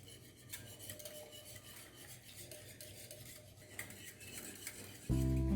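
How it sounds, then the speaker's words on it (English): An eight-year-old whisking Betty Crocker French vanilla cake batter in a bowl, soft rapid clinking and stirring strokes at low volume, ending in a sudden loud thump. "Let me just whisk it for a few more seconds"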